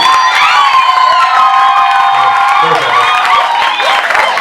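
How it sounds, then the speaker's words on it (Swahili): A church congregation claps and cheers together, a loud, dense wall of hands and raised voices that stays steady and close for the whole stretch. "Piga makofi na shukuru"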